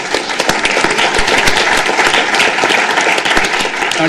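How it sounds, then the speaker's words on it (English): Audience at a Catholic K-12 education event gives loud, continuous applause, a dense close clatter of many hands lasting about four seconds without pause. "I think that deserves a round of applause as well."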